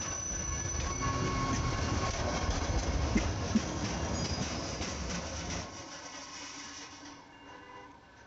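A train rumbles past on the tracks in Camden, New Jersey, loud and steady with metallic wheel squeals, then fades and thins out as it moves away.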